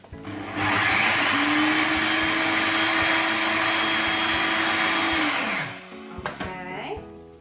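An electric mixer whirs loudly at a steady pitch for about five seconds as it beats butter for baking, then winds down and stops, followed by a few clatters.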